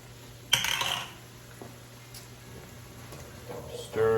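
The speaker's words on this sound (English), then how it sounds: "Stir those mushrooms." Mushrooms being stirred in a pan give a few scraping clatters of a utensil against metal, a sharp clink early on and softer scrapes later, at a low level without speech.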